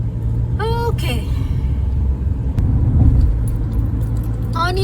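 A car's steady low road rumble while driving through the outskirts of Bhubaneswar on a long highway trip, continuous and close, with voices talking briefly over it.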